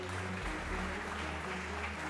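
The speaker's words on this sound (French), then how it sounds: "On peut l'applaudir." Audience applause at a French awards ceremony closing, a continuous wash of clapping heard from a distance in a hall, with a low background hum and no speech.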